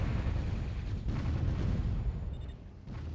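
Rumbling booms from aircraft bombing runs in the strategy game Warzone 2100, a dense, continuous low roar of overlapping explosions that stays loud throughout with no talk.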